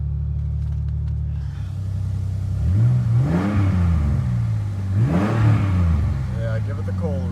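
Ford Ranger engine just after a cold start, idling low then revving up twice with rising and falling engine pitch, close and loud, with a few light mechanical chirps near the end.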